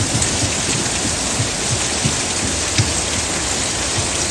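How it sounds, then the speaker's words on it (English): Heavy, steady rain pouring down, a dense continuous hiss with occasional louder drops, loud and close with no voices. "they're out here in all this rain"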